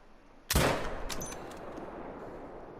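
A single sharp 6.5 rifle shot at a fallow deer in a hunting video game, one loud near crack followed by a long rolling echo that fades slowly.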